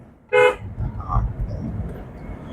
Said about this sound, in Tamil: one more horn